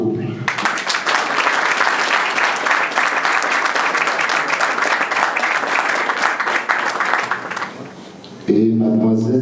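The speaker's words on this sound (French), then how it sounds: "On va applaudir pour le couple." Steady, dense applause from a crowd at a civil wedding fills the space for several seconds, tapering off before a voice starts speaking at the end.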